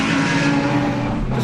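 A Lamborghini Huracan GT3 race car's engine roars loud and steady on throttle around a track, a dense continuous drone with no voices over it.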